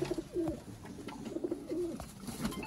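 Master Abdullah Sialkoti pigeons give several short, distinct coos in a loose rhythm, close and clear over a quiet background.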